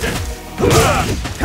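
Rapid flurry of punch impacts from Dudley's Machine Gun Blow in Super Street Fighter IV, dense smacks and thuds crowding together, loud and close over game sound.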